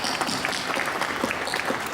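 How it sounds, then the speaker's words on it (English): Audience applause for nominees at the Hong Kong Young Writers Awards ceremony, a loud, close, continuous burst of clapping filling the room for a couple of seconds. "Let's give our nominees a round of applause."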